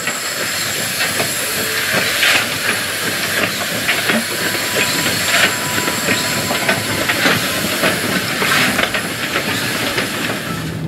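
A DD-class steam locomotive shunting in Western Australia hisses loudly and steadily, with rhythmic chuffs and metallic clanks of rail cars moving slowly nearby.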